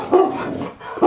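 Dogs barking indoors at a noise outside: two or three loud, close barks in quick succession.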